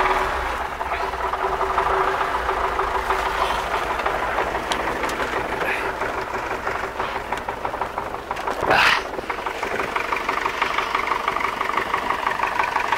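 An engine on a hay bale wrapper setup runs rough in minus-fifteen frost after a cold start, a steady close chugging idle with a brief louder clatter partway through.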